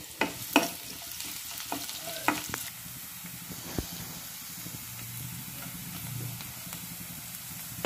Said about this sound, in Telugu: ఆనియన్ ముక్కలు, పచ్చిమిర్చి తరిగి వేసుకొని ఫ్రై చేసుకోవాలి